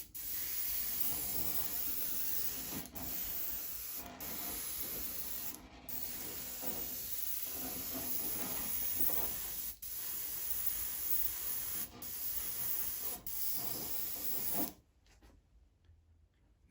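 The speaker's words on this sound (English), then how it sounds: "Now I'm going to spray down from the top with this Vallejo Dark Earth paint" Vallejo rust paint hisses from an airbrush onto the sides of model railroad track rails, a steady close spray in long bursts with short pauses, ending in silence.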